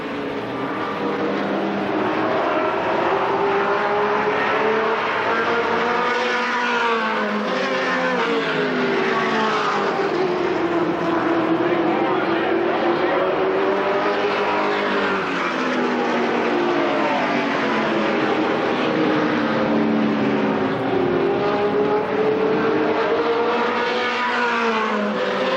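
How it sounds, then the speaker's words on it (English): Stock cars race at Winchester Speedway during a 1993 stockcar festival, a loud, continuous roar of several engines that rise and fall in pitch together as the pack sweeps through the turns, with no talk over it. "And the 77 car goes high, almost into the turn 1 wall, as Ray Fullen backs out of it."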